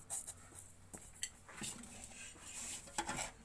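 Sugar is stirred into a panjiri mixture in a pot, heard as quiet, close scraping and clinks of a spoon against metal in short, irregular strokes.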